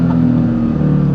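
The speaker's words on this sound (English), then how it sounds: "There's nothing like a supercharged Mustang sound." A supercharged 2013 Ford Mustang GT engine drones loud and steady at close range, a sustained throaty hum with no clear rise or fall in pitch, heard alone without any voices.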